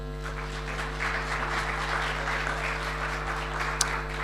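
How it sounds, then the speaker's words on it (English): Sustained audience applause at a business media awards ceremony, a steady wash of clapping filling a large hall for several seconds with no talk over it. "please, a round of applause."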